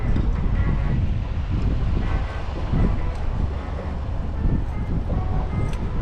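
Breezy wind at Haulover Canal buffets the microphone, a steady rough broadband rush with gusty swells throughout.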